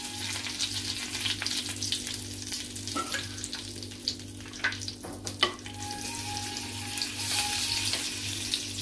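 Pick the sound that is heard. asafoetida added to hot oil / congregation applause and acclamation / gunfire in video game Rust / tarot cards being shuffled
asafoetida added to hot oil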